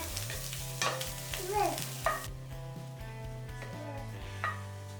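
A spoon scrapes and stirs masala idli in a frying pan with a faint sizzle underneath, steady and close, while a voice briefly sounds in the background.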